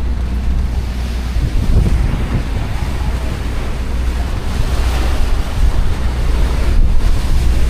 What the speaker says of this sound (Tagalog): Amihan ang hangin ngayon.